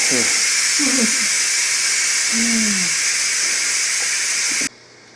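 Steam hisses steadily from a 2-quart Cooks Essentials pressure cooker after natural release, loud and continuous, with a person talking over it, until the hiss cuts off abruptly near the end as the pin drops.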